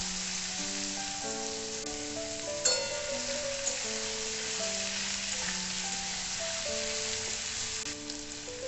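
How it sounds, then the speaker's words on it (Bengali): Chopped onions frying in oil in a pan for a chicken curry, a continuous close sizzle with crackling spits and scattered faint clinks, no voices over it. "এরপর আমি কেটে রাখা পেঁয়াজের টুকরোগুলো এর মধ্যে দিয়ে দেব। পেঁয়াজগুলো আমি ভেজে নেব একটু।"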